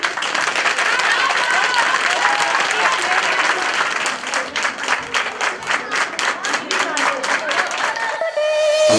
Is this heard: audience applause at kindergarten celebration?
yes